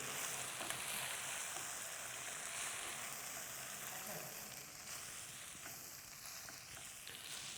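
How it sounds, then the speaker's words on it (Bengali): Egg-coated pasta tipped into a hot pan and stirred, with a continuous soft sizzle and faint scraping under a steady, fairly quiet background. "এখন এর মধ্যে আমি ওই ডিম সহ যে আমার পাস্তাগুলো আছে সেইগুলা ঢেলে দিব। ঢেলে এটাকে ভালো মতো মিশায় নিতে হবে।"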